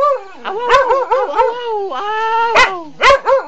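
A dog gives a string of close, loud barks mixed with whiny, howling yips, with several sharp barks near the end.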